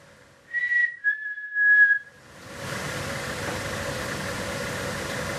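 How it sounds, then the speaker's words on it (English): A few short whistled notes, a brief trill then a longer held tone, followed by a steady engine-like hum and broadband noise. "If I whistle, can you whistle back?"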